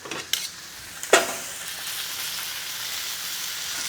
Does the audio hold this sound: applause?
no